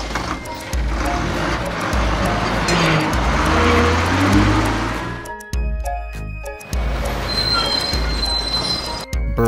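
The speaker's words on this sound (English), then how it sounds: "Brussels bus." A Brussels city bus in a cartoon drives along with a steady, loud motor rumble and road noise, easing briefly mid-way before pulling off again with a clinking, clattering undertone.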